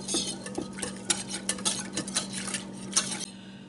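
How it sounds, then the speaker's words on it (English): A spoon stirs jello mixture steadily around a bowl, scraping, with repeated light clinks against the sides in an uneven rhythm. "then we are going to stir this for 2 minutes"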